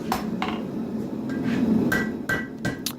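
Hammer blows forging a full tang knife on an anvil, several sharp metallic strikes at an irregular pace, close and fairly loud over a steady background hum.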